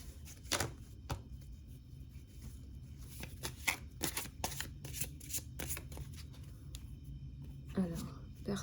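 Osho tarot cards being handled and turned over at close range, a run of crisp slaps and flicks with a brief rustle near the end, while a voice talks over parts of it.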